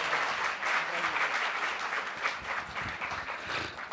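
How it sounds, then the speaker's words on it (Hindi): An audience in Singapore claps warmly to welcome poet Charagh Sharma at a Shayari Ka Adda gathering. The steady, full applause carries on throughout, with some voices mixed in. "जोरदार तालियों से उनका इस्तकबाल किया जाए"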